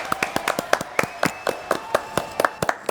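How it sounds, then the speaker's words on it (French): Sparse handclaps from a small audience on a French TV show, a dozen or so distinct claps in an uneven rhythm, fairly close and modest in volume, with no talking. "Applaudissements, s'il vous plaît."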